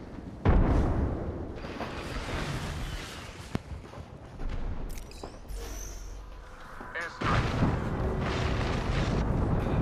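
Grenade blasts and gunfire in the Apex Legends video game: a heavy booming explosion opens the clip, followed by scattered shots, rumbling impacts and another loud burst near the end, with voices talking over the game audio.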